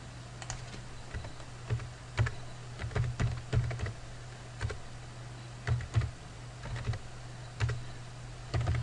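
Steady typing on a computer keyboard while entering a funds-transfer record into a banking integration display, with irregular bursts of clicking keystrokes, close and fairly quiet over a constant low hum.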